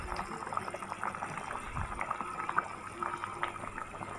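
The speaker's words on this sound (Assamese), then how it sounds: "এতিয়া আমাৰ পানীখিনি উতলি আহিছে।" Water boils in a cooking pot as chicken is prepared, giving a steady, soft bubbling and faint hiss that carries on evenly throughout, fairly quiet and alone.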